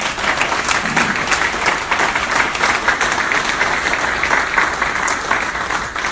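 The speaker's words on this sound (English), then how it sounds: "My gosh, a round of applause for the best." Dinner guests at a Slovenian-style community dinner applaud loudly and continuously, a dense wash of many hands clapping close by for the full stretch.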